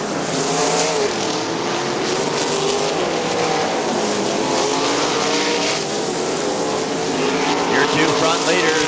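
Sprint cars race at Winston Motor Speedway in a Great Lakes Outlaw Sprint Series event, engines roaring steadily in a continuous loud drone with rising and falling pitch as they circle, while an announcer talks over them.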